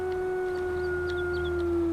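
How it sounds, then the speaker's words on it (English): A long, wolf-like howl in the video game Farming Simulator 22, a steady sustained tone held for the whole moment with faint chirps above it and no talking. "Why does that sound like a damn wolf?"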